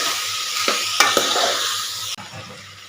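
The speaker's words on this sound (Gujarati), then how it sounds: "બધું સરસ મિક્સ કરીને હલાવી લઈશું" Spices and salt are stirred into a khichdi mixture in a pan, with a steady frying sizzle, a few scraping spoon strokes against the pan, and a sudden drop in level near the end.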